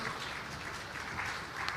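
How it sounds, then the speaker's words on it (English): A conference audience claps together in a steady, fairly quiet patter of applause with no voices over it. "Let's appreciate him with a round of applause."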